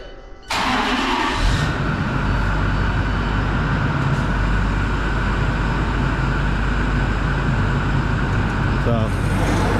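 Snow plow truck engine starts abruptly and settles into a steady loud idle, with a salt spreader setup; people talk over the running engine throughout.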